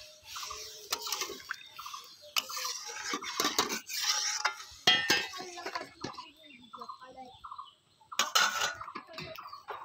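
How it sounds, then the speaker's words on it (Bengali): Kuche fish curry stirred in a pot just after water goes in, a spoon clinking and scraping against the metal in irregular bursts, close and moderately loud, with brief quiet gaps. "জলটা দিয়ে আমি একটু নাড়াচাড়া করে নিচ্ছি।"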